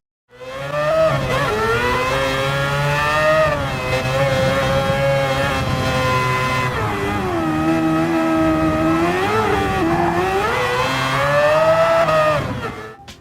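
Mazda 787B race car from Gran Turismo 4, its engine roaring loud and steady for the whole stretch, pitch rising and falling through gear changes with no talk over it.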